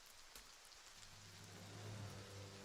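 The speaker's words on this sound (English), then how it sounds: "Are you serious? It's raining again?" Soft, steady rain falls in the Oblivion video game, a faint continuous hiss with a low rumble building under it, heard alone with no voices.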